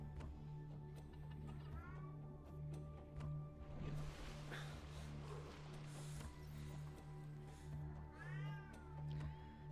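A house cat meows twice, rising drawn-out cries near the start and end, heard over a steady low hum and rhythmic ticking from a Subnautica game session.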